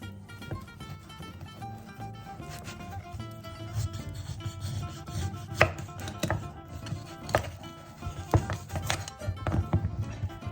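A knife slices through a piece of guanciale on a board, producing repeated uneven cutting and scraping strokes up close over a steady low background hum, with no voices.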